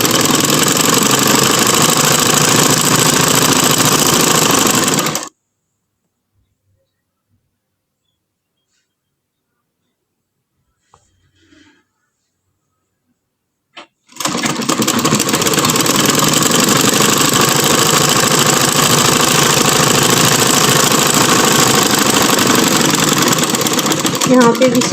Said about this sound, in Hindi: यहाँ पे भी सिलाई पक्की करनी है और इसको खींचतानी नहीं करनी, बिल्कुल नॉर्मल हाथ पे आपने इसकी स्टिचिंग करनी है।